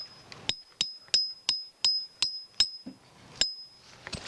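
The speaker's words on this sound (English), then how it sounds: "Let's get hammering." About nine sharp metallic strikes hammering tent stakes into the ground, each with a ringing clink, spaced evenly at roughly a third of a second, close and fairly loud, followed by a faint voice at the end.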